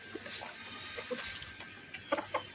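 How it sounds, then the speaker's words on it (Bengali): Free-roaming hens with a few chicks around them cluck softly at a distance, with scattered low calls at first and a couple of sharper clucks near the end. "তো দেখো কত মুরগি,"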